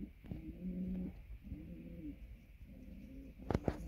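A pigeon sitting in a basket coos in three soft, rounded calls spaced evenly and heard close, followed by a couple of sharp clicks or taps at the end.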